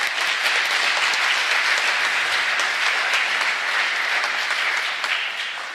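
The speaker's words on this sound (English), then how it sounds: "Let's give them a big applause." Steady, loud applause from a large crowd at a graduate school white coat ceremony fills the whole stretch, dense clapping without pause.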